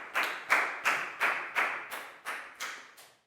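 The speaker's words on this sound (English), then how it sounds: "High five and a big round of applause for Chu, guys." Children clapping together in an English class give about eight evenly spaced, crisp claps in a steady rhythm, fairly close and moderately loud, with no talking.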